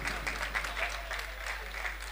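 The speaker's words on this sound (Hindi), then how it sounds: "ज़रा एक दफ़ा फिर तालियां बजा दें तैमूर साहब के लिए" An audience at a poetry book launch claps steadily for a poet, a continuous patter of applause with small swells, moderately loud and without speech.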